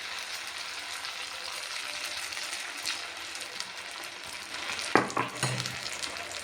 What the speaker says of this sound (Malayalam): അത് ചൂടായതിന് ശേഷം നമുക്ക് ഈ മാവ് അതിലേക്ക് ഒഴിച്ചു കൊടുക്കാം.